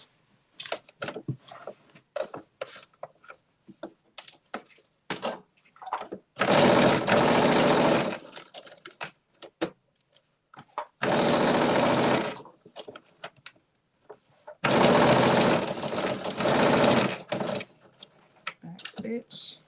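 Sewing machine stitching a 5/8 inch seam allowance on a garment, three separate bursts of fast, loud motor whirring lasting one to three seconds each, with quiet fabric handling and soft talk between them.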